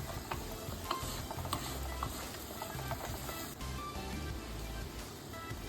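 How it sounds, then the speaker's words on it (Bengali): Masala for chicken do pyaza is stirred and fried steadily in a pan, giving a continuous dense scraping and sizzling texture with spatula clatter throughout. "এবারে খুব ভালো করে কষিয়ে নেব যাতে তেলটা হালকা হালকা ছেড়ে দেয়"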